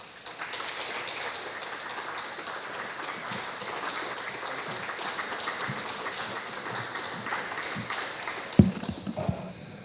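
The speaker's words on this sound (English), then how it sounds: "Please give a round of applause to Dr. Ray Bradley." Audience applause at a climate change lecture program, a soft, even patter of many hands heard from a distance for nearly ten seconds, with a couple of louder knocks near the end.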